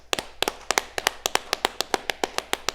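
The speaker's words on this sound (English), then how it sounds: "You got to clap it up for that." A steady run of sharp claps, about a dozen evenly spaced crisp hits over a few seconds, close and clear with no talking.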